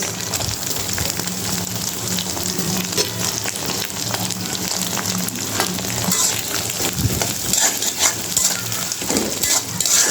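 Sliced onions fry in a pan for pasta, a loud continuous crackling sizzle with scattered pops and stirring scrapes throughout.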